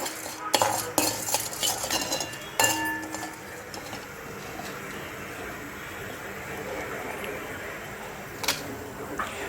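Black urad dal being stirred in a pan brings clustered metallic clinks and scrapes of a spoon against the cookware early on, then a quiet stretch with a faint sizzle and one more clink.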